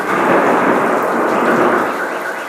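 Thunder rumbling during a heavy rainstorm in Dallas, a continuous loud roar with rain noise mixed in, steady for a couple of seconds before easing slightly.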